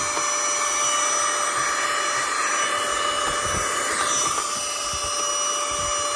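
Small handheld vacuum cleaner running continuously close by, a steady high-pitched motor whine with constant airflow hiss and slight pitch shifts as it picks up crumbs; no talk.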